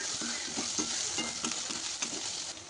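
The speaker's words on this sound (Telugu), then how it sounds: "ఉల్లిపాయ ముక్కలు, అల్లం వెల్లుల్లి పేస్ట్ వేసి బంగారు రంగు వచ్చేంత వరకు వేయించండి" Sliced onions with ginger garlic paste fry in hot oil for a paneer curry, a steady close sizzle broken by light rhythmic stirring scrapes, with no voices.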